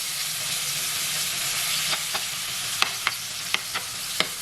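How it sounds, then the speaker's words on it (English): Shrimp sizzling in a hot pan of avocado oil, a steady bright frying hiss with a few sharp pops and crackles near the end, close and moderately quiet. "Now hear that sizzle, that's what you wanna hear."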